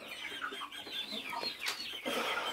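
Hens clucking continuously in a henhouse during a cleaning and lice treatment, several overlapping close birds with short repeated calls and no talking.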